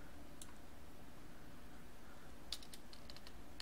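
Computer keyboard keys click in a few quick, faint presses over a soft steady background hiss, with a small cluster of taps near the end.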